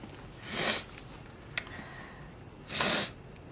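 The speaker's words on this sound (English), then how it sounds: "Sorry for that disgusting sniffling." A person with allergies sniffles twice, two close, breathy nasal inhales spaced about two seconds apart, with a small click between them and a quiet background otherwise.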